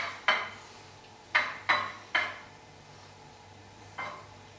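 A black plastic spoon knocks against a frying pan while potatoes are stirred near bacon, five sharp clacks spaced irregularly over a faint background hum.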